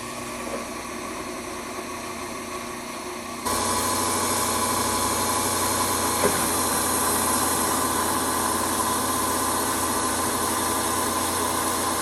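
A pitted exhaust valve from a VW GTI 2.0T, its valve spring broken, spins in a drill chuck while being polished with emery cloth, a steady whirring hum that grows louder partway through and runs continuously.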